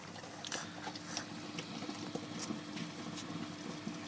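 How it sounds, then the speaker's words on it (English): Steady faint bubbling and fizzing from new carbon being dried near a battery experiment, a continuous background of small irregular pops and crackles with no voices. "Sorry if you can hear some bubbling in the background."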